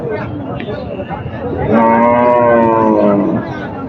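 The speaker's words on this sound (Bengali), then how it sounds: "অনেক সুন্দর গরু।" A cow or bull lets out one long, loud moo close by at a crowded Qurbani cattle market, the call rising over the steady murmur of a busy outdoor crowd.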